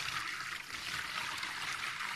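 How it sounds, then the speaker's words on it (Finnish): Water pours steadily into a basin in a continuous soft splashing rush, close by and moderately quiet, with no voices. "Laitetaan nyt vettä tällaiseen vatiin"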